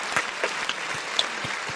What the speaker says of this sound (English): Let's give Camille a round of applause.